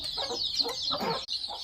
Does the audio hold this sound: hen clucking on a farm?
yes